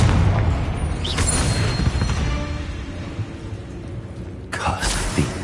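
Confringo fire spell blasts in Hogwarts Legacy, deep booms amid ongoing combat rumble, with sharp bursts near the start and another toward the end.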